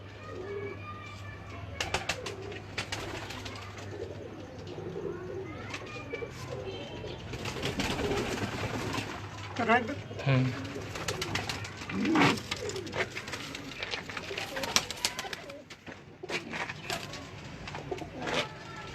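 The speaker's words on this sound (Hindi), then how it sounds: "यह जोड़ा देखो जी कैसा लगा दोस्तों। यह कबूतर है चीना" Pigeons in a breeder's loft coo repeatedly, soft and close, with rustling and handling noises, while people talk nearby.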